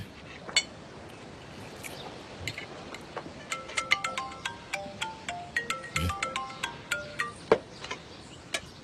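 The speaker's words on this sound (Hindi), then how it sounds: "जवाब क्यों नहीं दे रहे उस फोन को बेटा?" A phone ringtone plays a repeating melodic pattern of bright chiming notes, steady and moderately loud in a quiet room.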